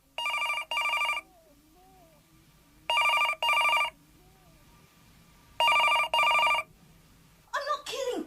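Old-style telephone bell rings in three double bursts, clear and close against a quiet room, followed by the start of a voice.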